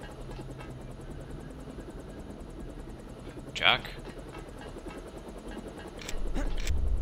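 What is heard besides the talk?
helicopter in Deus Ex video game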